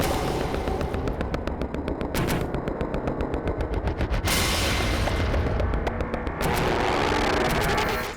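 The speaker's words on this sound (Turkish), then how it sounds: "Önce birkaç el silah sesi duyuldu" Rapid bursts of gunfire crackle continuously, loud and dense, with brief pauses and a heavier booming stretch midway, during the assassination attempt on Donald Trump.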